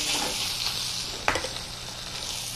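Moose steaks searing in a hot pan, a steady loud sizzle and hiss with a sharp clink of cookware partway through.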